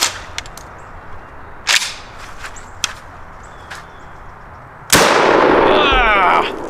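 Federal Force X2 segmented buckshot round fired from a shotgun outdoors, one sharp loud blast near the end after a few faint clicks and handling noises, followed by a long ringing decay.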